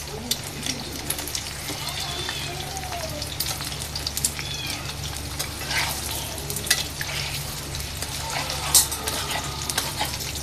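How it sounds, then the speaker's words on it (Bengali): Beaten egg frying in hot oil in a frying pan, a close continuous sizzle and crackle with faint stirring and a steady low hum beneath. "এখন আমি ডিমটা ঢেলে দিব"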